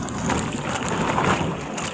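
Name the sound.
strong wind blowing on a boat at sea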